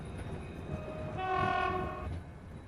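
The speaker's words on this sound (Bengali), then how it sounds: "ট্রেনটা বেলপুর স্টেশনে এসে পৌঁছালো।" A cartoon train pulls into a station, its horn sounding one sustained, rising-then-fading blast over a low rumble of the moving cars.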